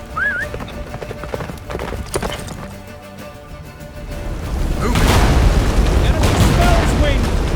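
Roach the horse galloping in The Witcher 3, rapid hoofbeats under a swelling roar of magical blasts and rumbling, growing louder and busier toward the end, with a brief whinny-like cry early on.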